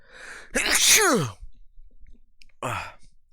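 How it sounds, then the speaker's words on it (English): A single loud, close sneeze from a man, bursting out sharply with a short tail, followed by a brief exhale a moment later. "I need to sneeze."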